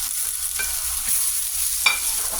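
Red chili, garlic and onion sauté in hot oil, giving a steady close sizzle with a few sharper stirring scrapes and pops.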